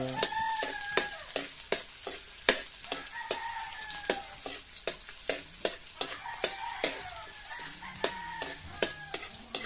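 Pork leg and onions fry in a pan with a steady sizzle while a utensil stirs and scrapes in regular sharp clanks, a rooster crowing faintly in the background.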